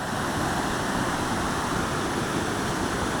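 Water rushes hard over a river spillway on a high river, a dense, steady roar with no breaks, loud and close with no voices.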